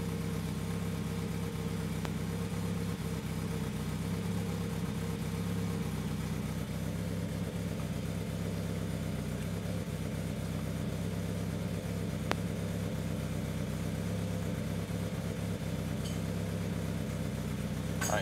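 A car engine on an AEM engine management system with a throttle position sensor problem idles at a steady, even drone, close and constant throughout, with no talk.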